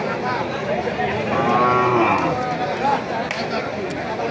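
Cattle at a cow market in Baliadangi, Thakurgaon, one cow letting out a drawn-out moo close by over crowd noise and someone talking.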